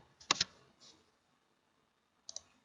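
Computer mouse clicks while drawing windows in building modeling software: a quick double click near the start, a softer click after, then a pause and another double click near the end, crisp and close against a quiet background.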